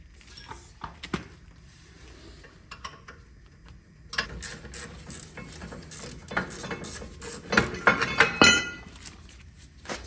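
A ratchet loosens the 18 mm rear brake caliper bracket bolts on a 2010-2014 Mercedes-Benz E350 (W212), giving quiet metallic clicks and clinks, sparse at first and then busier, louder bursts of ratcheting near the end.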